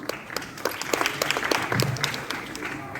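Audience applause for actress Jhulan at the Boomerang film trailer launch, a moderate crowd clapping with distinct sharp claps standing out, steady across the whole stretch, with faint voices mixed in.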